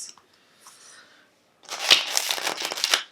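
Tarot cards being shuffled for a reading, a close, crisp riffling flutter that starts after a short faint pause and runs steadily for over a second.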